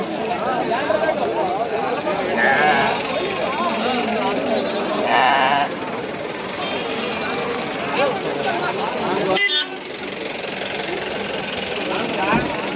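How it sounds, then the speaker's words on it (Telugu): Sheep bleating amid a busy Sunday livestock market in Pileru, the animals calling repeatedly over dense crowd chatter and a droning engine nearby, with a constant noisy outdoor bustle throughout. "సీప్ మార్కెట్ భారీ సైజ్ పొట్టేలు కూడా ఉన్నాయి"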